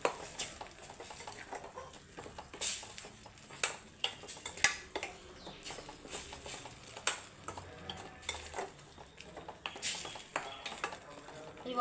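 Egg curry with ginger garlic paste being stirred in a pan, a faint, irregular run of spoon clinks and scrapes against metal with soft patter, repeated throughout at low volume, no talk.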